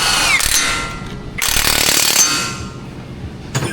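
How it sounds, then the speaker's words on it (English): An impact gun torquing the axle nut on a Toyota Tacoma, loud and close, firing in a short rattling burst and then a longer hammering run that fades off, with no talk. "My gun is set to 220 foot-pounds of torque."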